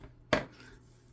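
A single sharp snip of excess craft material being trimmed off, close and short, followed by quiet room tone.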